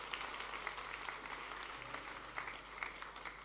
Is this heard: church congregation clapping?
yes